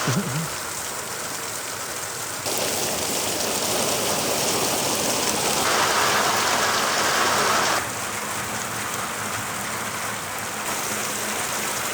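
Heavy monsoon rain pours steadily at Ambanad in Kerala, a dense, loud, continuous roar that swells and eases slightly in places, with no voices heard.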